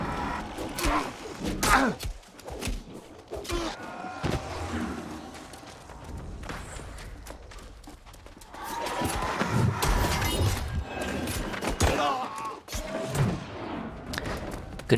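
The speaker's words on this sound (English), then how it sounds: "Oh, I hear gunshots." Rapid bursts of gunfire and crashing impacts from a game, coming in dense volleys with brief pauses between them.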